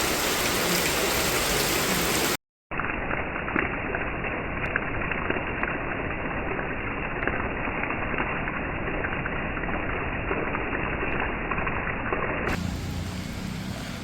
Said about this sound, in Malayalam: ഇത് കേട്ടോ മഴ കണ്ടോ നല്ല മഴയാണ്